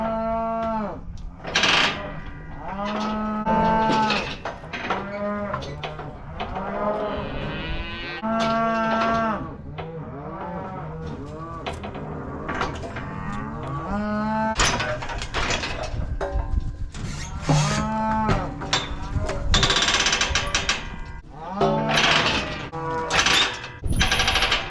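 Cattle being worked through a corral after vaccination moo loudly and repeatedly, several long bellowing calls overlapping with clanks of gates and metal, no talking.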